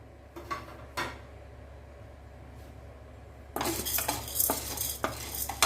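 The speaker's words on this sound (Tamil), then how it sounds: "நல்ல கடலப்பருப்பை செவக்க வறுத்து எடுத்துக்கலாம்" Chana dal dry-roasting in a pan for idli podi, with a few sharp scrapes and clinks of a spoon at first, then denser, continuous stirring and rattling of the lentils against the pan.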